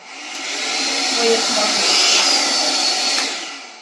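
Philips series 8000 vacuum cleaner running with a loud, steady whooshing roar that rises to full power, holds, then fades slightly at the end, with no speech over it.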